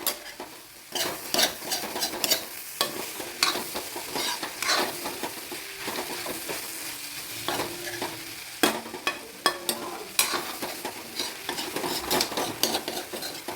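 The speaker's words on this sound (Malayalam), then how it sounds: "കൈ ഇളക്കാതെ ഇളക്കിക്കൊണ്ടിരിക്കണം അല്ലെങ്കിൽ അടി പിടിച്ച് എല്ലാം കട്ട കെട്ടിപ്പോകുവേ" Egg masala thoran sizzles in a pan as a spoon stirs it, with repeated scraping strokes and clinks against the metal over a continuous frying hiss, close by.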